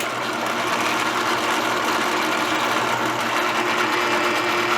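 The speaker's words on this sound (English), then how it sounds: "Let us drill some holes." A power drill bores into a thick piece of metal, a steady, continuous whine with a buzzing grind that holds level and close, alone without talk.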